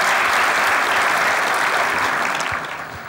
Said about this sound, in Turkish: Alkışlıyoruz kendisini.